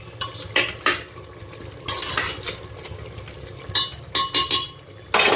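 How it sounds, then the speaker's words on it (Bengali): A spoon stirs potato and pumpkin curry in a pan after sugar goes in, sounding as sharp scraping clinks in uneven bursts over a soft sizzle. No one speaks. "চিনি দিয়ে ভালো করে নেড়ে নিতে হবে"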